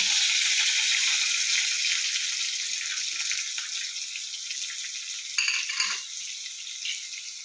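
Mustard seeds, cumin and onion fry in oil, a bright hissing sizzle that starts loud and slowly eases, with a sudden flare-up of spattering partway through as more is added.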